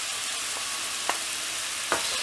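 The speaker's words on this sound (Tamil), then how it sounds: "தக்காளி வதங்கிட்டே இருக்கும்போது இஞ்சி பூண்டு பேஸ்ட் ஆட் பண்ணிடலாம்" Tomatoes with ginger garlic paste sauté in a pan for a quail egg and prawn curry, making a steady close sizzle broken by two distinct spatula scrapes against the pan.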